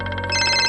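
A telephone ringtone for an incoming call plays loud and close, a repeating electronic melody that brightens and thickens partway through, with no voices over it.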